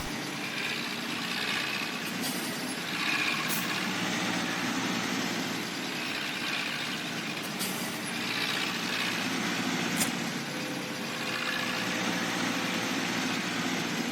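A tractor engine pulling a seeder in Farming Simulator 17 drones steadily at a constant mid-level rumble, with a few faint clicks and ticks from the game over the continuous running engine.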